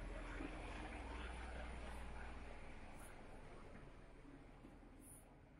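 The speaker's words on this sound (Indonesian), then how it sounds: "yuk lihat pesawat terbang" An airplane passes overhead as a steady broad engine roar that slowly fades away, faint and distant, with no talk over it.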